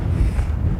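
Steady wind buffeting a microphone on the exposed summit of Montaña Blanca above the Cañadas crater rim, a continuous low rumbling roar with no talk.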